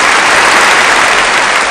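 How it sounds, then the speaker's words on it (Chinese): Steady, dense applause from a studio audience greeting two magicians onto the stage at a televised 2011 online Spring Festival Gala, a loud continuous wash of clapping with no pauses. "掌声有请二位。"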